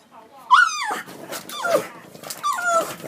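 A dog named Money fusses, eager to go out, with rising and falling whiny yowls and low growly grumbles in several close, loud bursts, while a person can be heard talking.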